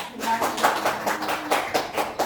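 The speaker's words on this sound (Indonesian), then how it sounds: "tepuk tangan untuk Rosi ya" Classroom group clapping briefly for a student named Rosi, a short run of quick, close hand claps with a voice speaking over them.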